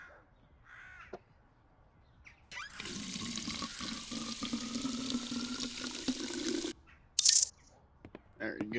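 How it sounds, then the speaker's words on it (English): Water running from a tap while bottles are filled in the video game Drug Dealer Simulator, a steady rushing flow of several seconds that stops abruptly, with quieter clicks and handling noises before and after. "I think you can only fill up like 4 or 5 water bottles at a time."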